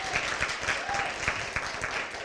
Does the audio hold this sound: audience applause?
yes